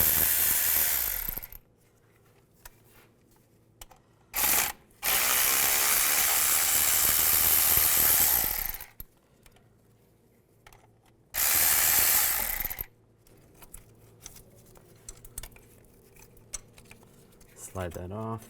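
A ratchet fitted with a 10mm socket takes out two bolts while the front CV axle is replaced on a 2002-2009 Chevy Trailblazer. Two loud bursts of rapid clicking ring out close by, with quiet gaps and faint tool handling between them.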